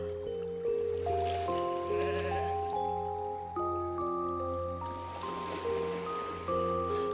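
Sheep bleating in a farm-building video game, layered over steady synthesized background music with sustained tonal notes throughout, the bleats soft and blended into the mix.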